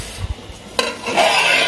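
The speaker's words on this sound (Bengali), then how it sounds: "এই এখানে পটল ভাজা হচ্ছে" Sliced pointed gourd (potol) frying in a pan: a few sharp utensil knocks and scrapes give way to a steady, close sizzle of oil.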